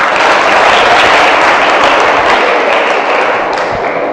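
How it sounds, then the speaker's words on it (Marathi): An audience at a quiz event claps steadily after a correct answer, a dense, loud wash of applause that lasts throughout without pause and carries no talk over it. "टाळ्या वाजून अभिनंदन करा"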